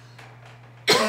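A single sharp cough bursts out at the end after a short stretch of quiet room hum, close and loud.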